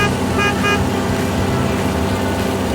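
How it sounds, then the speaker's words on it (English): A railway maintenance vehicle gives a steady loud mechanical rumble with two short horn-like toots early on, close by and continuous. "Railway maintenance vehicle."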